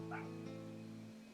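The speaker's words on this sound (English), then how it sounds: "Those freaking dogs." Dog barking and yipping briefly over a steady tonal hum, with a whimpering quality, moderately loud and brief, no talking.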